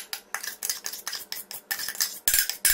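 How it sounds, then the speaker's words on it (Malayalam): Powdered chana dal being added to a pan for sweet boli, also called puran poli, comes with a series of bright metallic clinks and scrapes of a utensil against the pan, about ten sharp hits in uneven rhythm, close and fairly loud. "ഇനി നമുക്ക് ഇതിലോട്ട് നമ്മൾ പൊടിച്ചു വെച്ചിരിക്കുന്ന കടലപ്പരിപ്പ് ചേർക്കാം"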